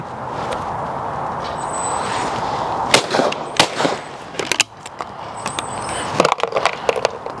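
A Yildiz Pro 20 bore shotgun fires at clays at a shooting ground, giving several sharp, loud reports in two clusters over a steady outdoor background.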